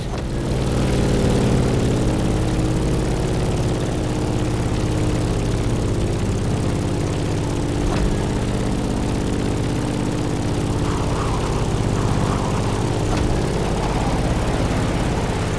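A propeller plane's engine drones loudly and steadily in The Crew Motorfest racing video game. The heavy continuous hum does not change throughout.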